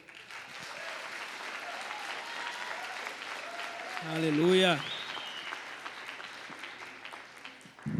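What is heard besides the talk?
church audience applauding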